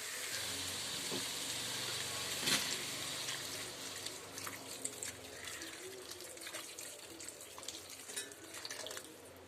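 Hot water poured into a pan of frying chilli soya, a steady watery pour and hiss with a sharper burst of sizzle early on, then softer bubbling and crackling that carries on at moderate volume.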